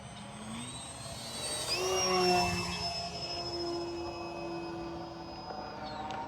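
An FMS Super EZ 1220mm RC trainer plane takes off from grass, its electric motor whining steadily and rising in pitch as it climbs, near and moderately loud.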